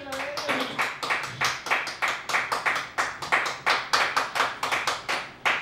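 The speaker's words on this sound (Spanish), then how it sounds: "Dale un aplauso al Rey." Rhythmic clapping from a church congregation, steady and even at a fast beat, close and lively, with a voice briefly audible near the start.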